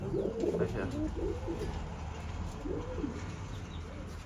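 Pigeons coo in a loft, several low, rolling calls close by in short bursts over a steady background murmur.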